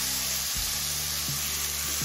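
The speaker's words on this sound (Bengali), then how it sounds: "এবার এই টমেটোটা নরম হয়ে আসা পর্যন্ত ভেজে নিতে হবে।" Tomatoes fry in a pan for a vegetable egg pulao, giving a soft, continuous sizzle with a low hum beneath and a brief stir or clatter partway through.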